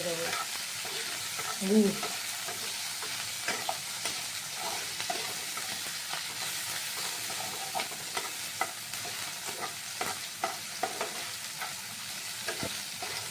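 A steel ladle stirring moong dal in a pot, with repeated scraping clicks and a soft, steady sizzle close by, and a brief word spoken once.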